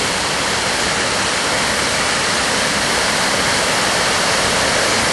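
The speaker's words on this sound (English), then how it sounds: "Pan over to the right, we've got our waterfalls." A waterfall at Horsetail Falls sends up a steady, loud, unbroken roar of rushing water that holds even throughout, with no voices over it.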